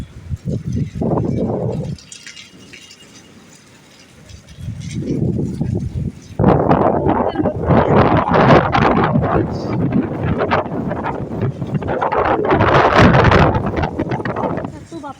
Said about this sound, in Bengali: প্রচণ্ড বাতাসের সাথে বৃষ্টি